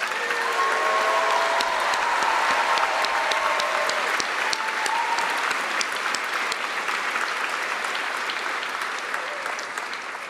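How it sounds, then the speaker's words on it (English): Sustained applause from a large audience at a medical school white coat ceremony, dense clapping filling the room at a steady level before easing slightly toward the end. "Just one more big round of applause for these amazing students."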